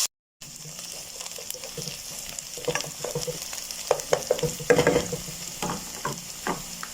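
Onion fries in hot oil until golden brown, a moderate sizzle broken by scraping and clattering stirring strokes that grow busier partway through, with no talking.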